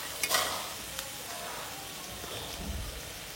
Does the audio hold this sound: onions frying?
yes